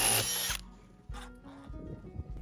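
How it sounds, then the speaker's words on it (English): A corner impact driver drives screws into a steel roof-edge frame in a tight space, with a short loud whirring burst at the start followed by quieter clicks and taps, close up with no talking. "I use a corner impact driver and screws for steel"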